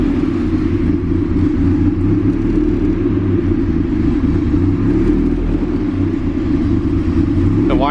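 A turbocharged Honda Civic engine idles loudly and close, a constant low rumble with a steady drone that holds throughout, without revving.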